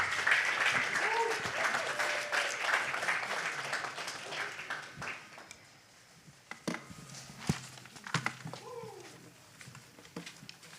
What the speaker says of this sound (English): Keep those hands clapping for the Wellness Co-op presented by Joy Bullard Moore.